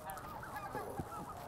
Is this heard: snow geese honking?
yes